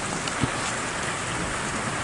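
Rain falls steadily outdoors, a soft continuous hiss with one brief knock early on and no speech.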